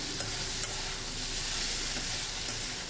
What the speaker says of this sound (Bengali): তো 2-3 বার চাপা দিয়ে দিয়ে ভেজে নিয়েছি পেঁয়াজ আর আলুটা একসাথে